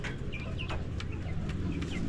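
Several chickens cluck and chatter nearby, short squawks popping up over a low, busy rumble of flock noise.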